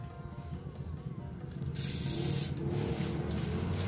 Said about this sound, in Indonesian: Lakukan sedikit-sedikit seperti ini sambil kita semprot pelumas.